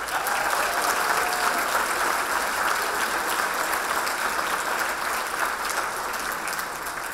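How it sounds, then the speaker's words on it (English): An audience at a gala breaks into sustained applause, a dense, steady wash of clapping hands that fills the room throughout without letting up. "Can we give these people a round of applause?"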